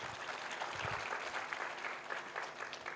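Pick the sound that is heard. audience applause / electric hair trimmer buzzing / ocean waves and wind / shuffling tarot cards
audience applause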